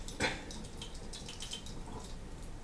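Water with sanitizing solution trickling and dripping into a sink, faint and close, with a soft splash near the start and light patters following.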